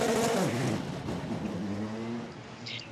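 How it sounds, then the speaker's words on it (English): A Porsche race car at the 2021 Twelve Hours of Sebring accelerates hard out of the pit lane, its loud engine roaring close by, with the pitch dropping as it pulls away. "that was the sound of a Porsche steaming out of the pit lane"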